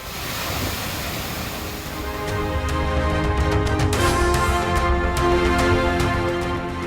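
Kumbakkarai waterfall in Theni district, Tamil Nadu, running in heavy flood after a night of heavy rain: a loud, dense, steady roar of rushing water that swells slightly partway through, with no voices.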